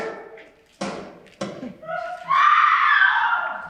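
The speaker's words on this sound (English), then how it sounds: "Oh, and what a horrid scream!" A woman screams in a radio drama, a long shrill rising cry that comes after a few sharp bangs and brief voices, loud and close.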